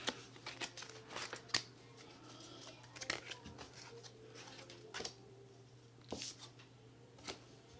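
Tarot cards being shuffled during a Gemini reading, a soft papery riffling with repeated brief snaps and flicks, close and quiet, with no talking.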